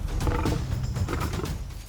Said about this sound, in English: The hyena struggles and growls in despair